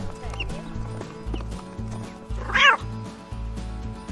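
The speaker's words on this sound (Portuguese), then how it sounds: "Gato." A domestic cat gives one short, clear meow over a steady rhythmic clopping in the background, fairly close and loud.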